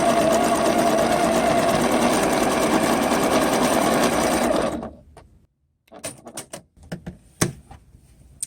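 Sewing machine stitching interlocking seams in a steady, loud, continuous run for several seconds, then stopping, followed by scattered clicks and fabric handling noises.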